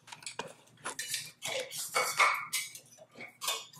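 A metal spatula scraping and clinking against a hot quiche pan, a close series of irregular metallic scrapes and taps.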